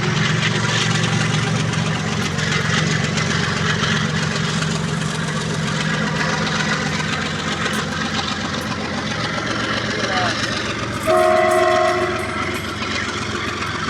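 Train rolls past on the Guwahati downtown line, a sustained rumble and clatter of wagons close by, with a loud horn blast near the end.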